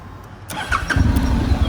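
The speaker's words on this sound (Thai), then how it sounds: "ส่วนเครื่องยนต์เดี๋ยวสตาร์ทให้ฟังเสียงเครื่องยนต์กันดูนะครับ" A 2013 Honda Integra 700 motorcycle starts up: a short cranking burst, then the engine catches and settles into a low, steady idle, close and fairly loud.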